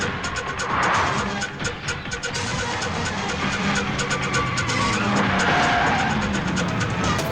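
A car speeds hard in a police chase, its engine roaring while tires squeal and skid in sustained bursts, loud and close for several seconds.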